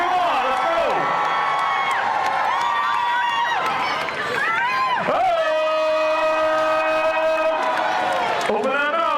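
A festival crowd at a Seattle Center heritage month celebration cheers, whoops and shouts loudly and steadily, with high voices rising in long calls over dense background noise.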